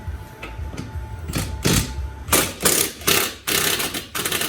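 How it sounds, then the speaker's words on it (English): A ratchet wrench works the small subframe bolts on a 2023 Mustang, giving a close run of rapid clicking strokes in repeated bursts with short pauses between them. "So we'll remove the two smaller subframe bolts."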